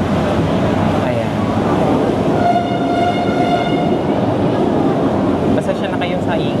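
A loud rumbling LRT light rail train passes close by on a street in Avenida, Manila, with a sustained horn-like tone and rattling wheels, while people talk nearby.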